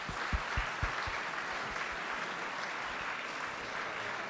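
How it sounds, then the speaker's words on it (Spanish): Applause from an audience: a steady patter of clapping hands fills the whole stretch at moderate distance, with a few sharp, closer claps standing out near the start and no talking over it. "Que merece un aplauso."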